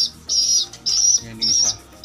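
Young pigeons give three bursts of shrill, high chirping, each lasting about half a second and separated by short pauses, heard close up with faint movement noise between them.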